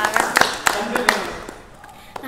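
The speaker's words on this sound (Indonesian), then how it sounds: "Tepuk tangan dulu" A small group claps briefly during a talk-show interview, a few scattered, close claps fading out within a couple of seconds.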